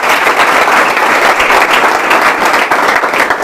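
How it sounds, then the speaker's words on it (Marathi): Students at an MPSC coaching academy in Latur applaud for the staff, a loud, dense burst of clapping from a large group that continues steadily throughout. "तर एकदा जोरदार टाळ्या उद्या सरांसाठी,"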